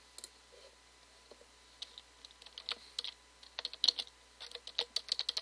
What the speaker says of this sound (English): I type in my channel moniker